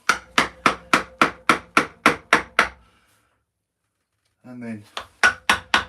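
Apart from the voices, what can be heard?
chisel carving a groove in wood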